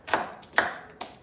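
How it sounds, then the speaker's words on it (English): A knife chops through onions on a cutting board in a home kitchen while turkey soup is being made: three crisp, evenly spaced chops, close and clear. "So lots of chopping."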